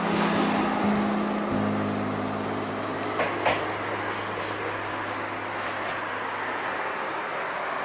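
Electric commuter train idling at Kamakura Kokomae station platform on the Enoshima line, a steady low motor hum and broad rushing noise with a brief clank partway through, fairly loud and continuous with no voices.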